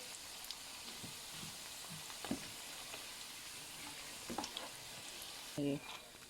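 Dried fish frying in hot oil, a steady broadband sizzle running throughout with a few scattered pops and scrapes, and a short louder clatter near the end.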